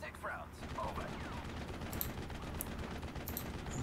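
Rapid gunfire crackles steadily throughout a World War II battle in Steel Division: Normandy 44, a dense continuous fusillade with machine-gun bursts heard at moderate distance and no talking.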